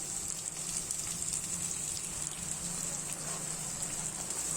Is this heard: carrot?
yes